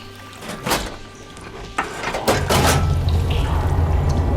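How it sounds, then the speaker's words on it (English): Machinery in the Horizon Forbidden West game switches a water flow: a few sharp mechanical clunks, then a deep, loud rushing surge of water that builds and keeps running steadily. "Sounds like the water's switched."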